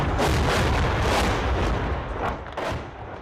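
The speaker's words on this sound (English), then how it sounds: "the sound of explosions is near constant" Shelling explosions in Chasiv Yar thud in a dense, rumbling barrage, with repeated heavy booms and crackling blasts that come in quick succession at a moderate distance.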